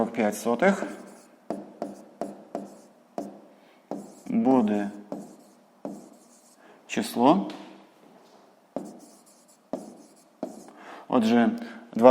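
Pen scratches across paper in short bursts as math exercise answers are written by hand, close and clear, broken up by a person speaking between strokes.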